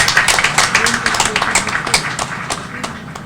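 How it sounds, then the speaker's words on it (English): Applause from the audience at a Philippines-Korea RDF hand over ceremony in Metro Manila: dense, steady clapping throughout, with crowd noise and voices mixed in. "Let us give them a big round of applause."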